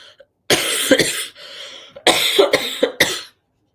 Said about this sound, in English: Cough and a sip of tea.